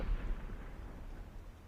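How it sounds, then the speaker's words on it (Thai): A muffled, low booming video game explosion with a rumbling tail, fairly quiet and brief, fading out over a second or so. "เสียงระเบิด"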